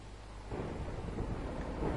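Thunder in a Hunger Games–style video game, a deep rumble that swells in loudly about halfway through and rolls on steadily, with a rain-like wash underneath.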